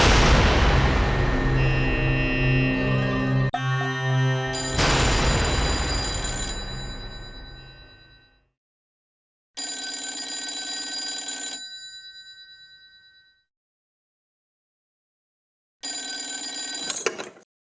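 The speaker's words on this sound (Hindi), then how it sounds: "सूर्यकमल भैया की सगी मौसी का फोन है" An old-style telephone bell rings in three loud bursts separated by silent pauses, clanging and metallic, no one speaking.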